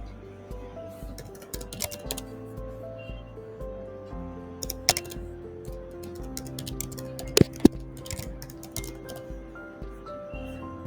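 Keys clack softly on a computer keyboard as a name is typed, with a quiet run of irregular taps and a few sharper clicks, close but low in level.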